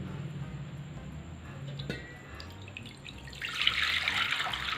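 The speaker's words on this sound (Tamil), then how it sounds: "இது தண்ணி ஊற்றிக்கலாம்." Water is poured into a kadai while preparing tapioca chips in a home kitchen. After quiet kitchen ambience and a faint clink, a steady, moderately loud pour and splash starts near the end and runs to the close.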